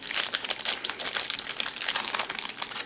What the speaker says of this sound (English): So we're gonna give this a little try, a little cookie. Let's rip it open here.